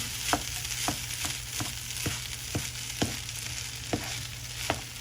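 Spam fried rice sizzling in a frying pan as it is stirred with soy sauce, a steady hiss broken by regular spatula scrapes and knocks roughly every half second, close and without speech.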